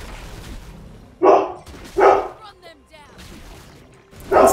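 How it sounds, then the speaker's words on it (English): A pet dog named Boogie barks in sharp bursts, three or four loud close yaps spaced about a second apart, with faint whimpering in between, under a voice talking during a game. "I love your dog."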